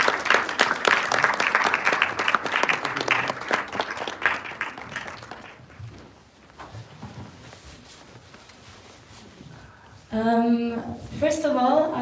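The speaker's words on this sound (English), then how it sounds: "And a round of applause." Audience at a film festival Q&A applauding directors coming on stage, brisk clapping for several seconds that fades to quiet murmurs before someone starts speaking.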